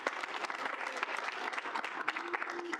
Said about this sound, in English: We can do a round of applause really quick.